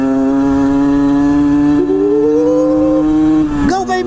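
A Famel XF-17 motorcycle engine revs hard and loud up close, its steady buzzing note holding high, climbing further, then dropping sharply just before the end.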